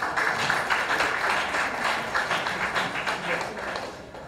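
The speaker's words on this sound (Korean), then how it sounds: "다시 한번 뜨거운 박수를 부탁드립니다" Warm audience applause at an anniversary ceremony of a Korea–Kyrgyzstan exchange committee, a dense crowd clatter lasting around four seconds and slowly thinning toward the end.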